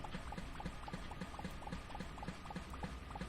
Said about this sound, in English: Just draining all this water as these fish over there like suffering.